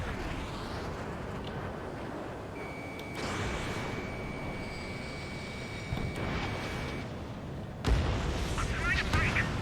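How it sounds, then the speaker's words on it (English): Missile launches and explosions in the Ace Combat 7 jet combat game, with rumbling blasts, a steady warning tone and a loud burst near the end, all mixed with radio chatter. "Launching missile."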